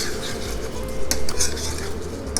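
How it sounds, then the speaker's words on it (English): Butter melting in a pan is stirred gently with a utensil, giving soft scraping and clinking against the pan, close and continuous, with a faint sizzle beneath. "as the butter is melting, we are going to stir it gently"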